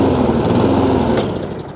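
A Honda IZY lawn mower engine with a carburetor problem runs steadily up close, a loud, buzzing small-engine drone that surges and hunts slightly in pitch, with no one talking.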